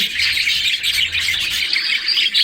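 Australian budgies in a breeding colony chirp and twitter constantly, a busy overlapping chorus of bright, close calls with no voices.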